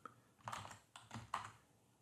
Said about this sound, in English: typing in the name of that manager, and then you have to type in their zip code